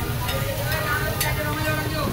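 Fish barbecuing on a street food stall grill, a loud steady sizzle with crackling bursts and faint background chatter and clatter throughout.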